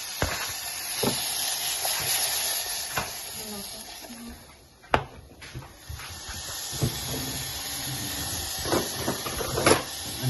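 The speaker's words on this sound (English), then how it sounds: "Hear that sizzle." Onions sizzle and hiss in a hot pan, a steady crackling fizz broken by clinks of a utensil against the pan and scattered sharp pops.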